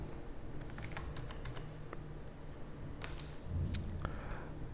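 Typing on a computer keyboard while entering a supplier invoice in business software, heard as quiet, fairly close key clicks in irregular bursts over a soft background hum.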